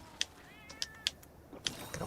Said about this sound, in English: Gotta watch out for these cats here, they steal your items.